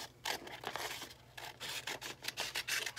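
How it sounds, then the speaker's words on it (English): Scissors snip off an extra paper tab while folding a 3D paper snowflake, giving a quick series of close, quiet cutting and rustling sounds with no voices. "I'm going to then take my scissors and cut off this extra tab"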